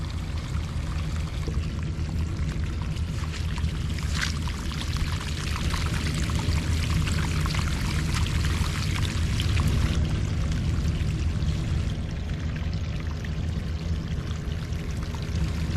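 Groundwater pours steadily out of a French drain pipe outlet in a soggy yard, a continuous full rushing splash that stays loud and unbroken throughout with no talk over it.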